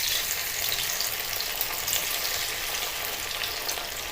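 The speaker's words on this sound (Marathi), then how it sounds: "त्यामुळे आपण आता वड्या तळून घेऊया. एक एक वडी अशी सोडूया तळायला." Coriander vadis deep frying in hot oil give a steady, close, bright crackling sizzle that holds evenly throughout without pause, and nobody speaks over it.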